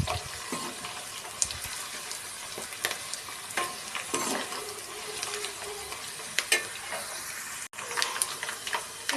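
Tomatoes frying in a pan for Telugu tomato pachadi, a steady close sizzle broken by scraping stirs and clacks, with no talking.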